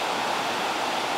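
Steady broadband rush of the Troncoso river, also called the Balsas, flowing at the Spanish-Portuguese border near Cevide, a continuous wash of water filling the short moment with no voices.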